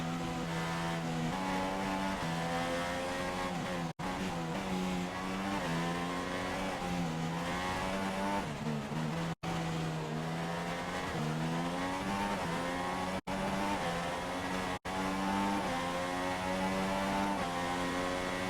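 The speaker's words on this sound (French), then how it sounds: "On va venir tenter directement sur la Ferrari de Raikkonen" Formula 1 cars from the F1 2016 racing game scream past at close range, engines holding high revving tones that rise and fall through gear changes while the pack battles for position, continuous and loud with no talk.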